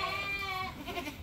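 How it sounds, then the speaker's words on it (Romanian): A goat penned in a stall and close to giving birth bleats nearby, one long wavering call followed by a shorter second cry. "Aici avem o căpriță care trebuie să fete."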